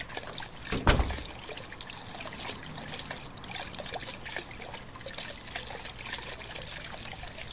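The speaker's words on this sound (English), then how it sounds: "Yikes, the water! Is the faucet busted?" Water trickling steadily from a busted bathroom faucet in the horror video game The Crooked Man, a continuous low splashing stream after a brief louder gush near the start.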